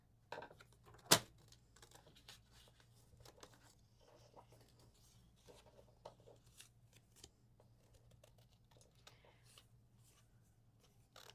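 Scissors cut through paper to make small envelopes for mini cards, producing quiet, scattered snips and rustles with one sharp click early on, all faint and close with no talking.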